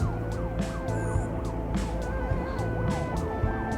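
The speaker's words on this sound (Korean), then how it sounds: "열심히 빠져나가는 구급차의 모습도 볼 수 있습니다." An ambulance siren wails in repeating rising and falling sweeps over steady traffic noise, moderately loud and continuous.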